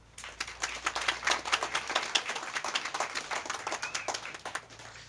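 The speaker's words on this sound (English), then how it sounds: "a special round of applause for Southfield police officers who are here present as well" An audience at the Southfield police memorial service claps for police officers: a dense, close round of hand claps that swells, then tapers over a few seconds.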